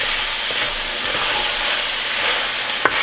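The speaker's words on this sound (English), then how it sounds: "continue frying for another 3 minutes" Steady sizzling of biryani ingredients frying in a small pan over medium heat, a continuous broadband hiss with a faint clink near the end, no voices.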